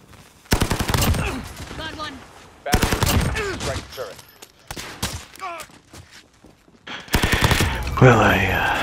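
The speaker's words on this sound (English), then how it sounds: "Well, I got a sentry gun on station." Loud bursts of rapid automatic fire from a sentry gun in a first-person shooter game, three long volleys separated by short gaps, with a voice speaking between the bursts.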